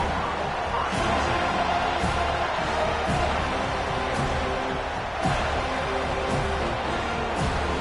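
College football crowd inside a packed stadium gives a steady, loud roar that fills the space, with faint thuds and surges from the stands and no break in the noise.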